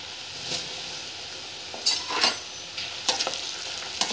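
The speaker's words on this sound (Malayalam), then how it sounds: "ഇനി നമുക്ക് കുറച്ച് വെച്ച ഇട്ടിട്ട് അവല് വറുത്തെടുക്കാം." Flattened rice (aval) fries in hot oil in a home kitchen, a continuous close sizzle broken by several sharp scrapes and clinks of a ladle stirring in the pan.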